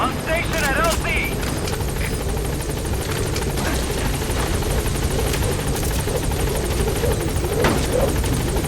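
A helicopter rotor thrums steadily and loud throughout a scene in Metal Gear Solid V: The Phantom Pain, with a brief voice and radio chatter over the engine.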